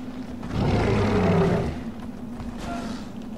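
A tiger in the prehistoric game Far Cry Primal lets out a single deep, loud roar lasting about a second, rising and fading against a steady low background hum.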